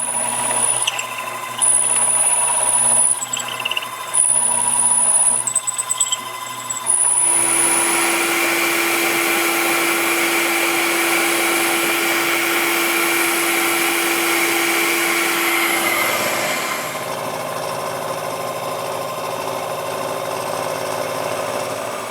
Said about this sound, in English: I'm just milling out the center where I had a socket head cap screw helping to hold the piece